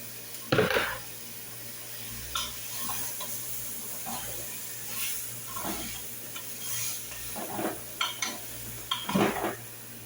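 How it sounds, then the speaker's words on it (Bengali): Tomatoes poured into a hot pan sizzle quietly, with scattered clinks and scrapes of utensils against the pan over a faint steady hiss, close and low in level with no speech. "আছে যে এখানে টমেটোগুলো ঢেলে দিলাম।"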